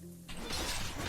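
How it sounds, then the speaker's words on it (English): Animals smash against a vehicle in the video game Cataclysm DDA: a sudden, loud shattering crash bursts in after a brief low hum and rings on noisily for the rest of the moment. "the animals shouldn't be smashing on my vehicle"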